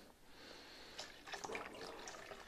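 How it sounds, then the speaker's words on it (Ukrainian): Water poured into a container of young orchids, a soft trickling and dripping that starts about a second in and continues close and fairly quiet to the end. "у цьому випадку зараз ми додамо води."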